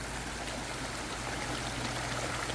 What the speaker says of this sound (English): Look how close I am to Anderson Creek.